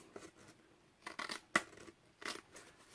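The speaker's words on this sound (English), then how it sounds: "So I'm going to go ahead and cut these" Scissors snip through paper to make a side pocket for an envelope mini album, with four or five crisp cuts spaced through a quiet room and a sharp click near the middle.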